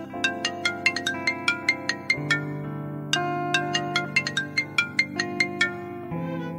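A phone ringtone plays nearby: a bright, plucked electronic melody of quick repeating notes over a sustained synth backing, with no voices.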